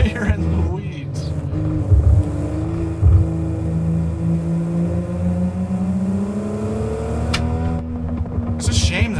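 A Toyota Supra's engine drones and revs in the BeamNG driving game, a loud, rising and falling note held through several gear changes, with someone talking over it.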